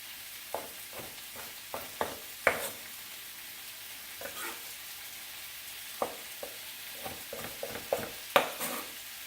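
Chopped tomatoes with their juices sizzling in a hot pan for sausage and peppers, a steady soft hiss broken by scattered clinks and scraping stirs at irregular intervals.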